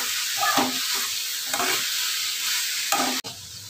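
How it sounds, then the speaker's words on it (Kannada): Cabbage palya fries in a pan, giving a steady close sizzle broken by three scraping stir strokes, with no voices. "ಒಂದು 5 ನಿಮಿಷ ಫ್ರೈ ಮಾಡಿ ಇಲ್ಲೇನೆ"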